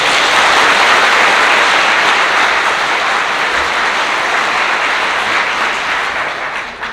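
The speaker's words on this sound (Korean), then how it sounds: "모두 크게 박수해 주시기 바랍니다." A crowd at a wedding ceremony claps loudly and continuously for several seconds, a dense, even roar of hands that fades slightly toward the end.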